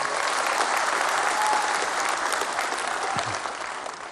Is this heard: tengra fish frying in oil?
no